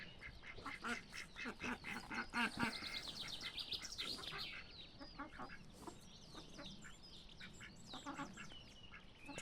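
Ducks quack softly near small peeping ducklings on their first outing among tall grass, a close, busy chatter of calls rising and falling with no talk over it.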